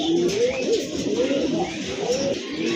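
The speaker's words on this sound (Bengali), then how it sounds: "এই যে দেখেন কবুতরগুলো মাশাআল্লাহ অনেক বড় সাইজের কবুতর" Large-sized pigeons coo close by in a continuous series of rolling, throaty calls with a few faint chirps, with no talk.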